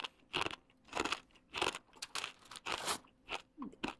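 Loud, close crunching of a crisp honey-sweetened corn snack, about eight sharp crunchy bites and chews in steady rhythm, with no talking.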